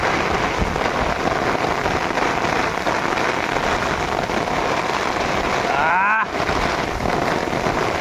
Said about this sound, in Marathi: एवढा पाऊस आला ना